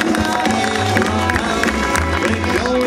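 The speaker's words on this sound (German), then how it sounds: "einen großen Applaus für die erste Gruppe" An audience claps and cheers for a petticoat dance group at a competition, with steady loud applause over music and voices talking.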